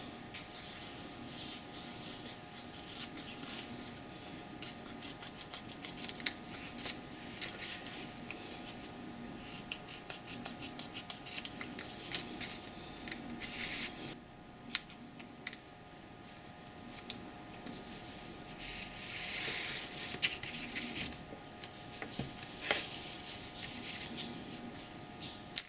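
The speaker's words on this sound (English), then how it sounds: "So next thing I'm going to do is I'm going to cut out these shapes" Scissors snip out card shapes for a collagraph printing block, quiet scattered cuts and paper rustles spread through a long, faint stretch with a low room hum.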